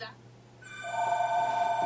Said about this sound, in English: My phone always likes to bloody ring when I'm recording.